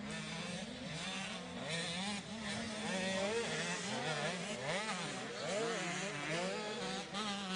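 Small-wheel 85cc motocross bikes racing, their two-stroke engines buzzing and wailing in rapidly rising and falling pitch sweeps as riders blip the throttle, continuous and fairly close.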